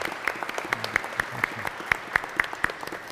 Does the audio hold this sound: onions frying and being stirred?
no